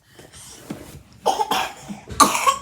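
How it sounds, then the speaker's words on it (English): Several separate coughs, harsh and close, arriving in short bursts with quiet gaps between them. "Oh, that cough."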